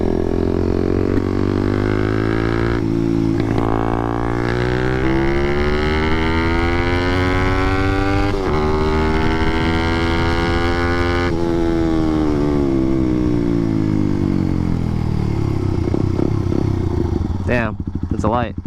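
A loud 181cc Honda Monkey motorcycle pulls hard through rising revs, its buzzy exhaust note climbing in pitch, briefly dipping at a gear change, then easing off, close and continuous.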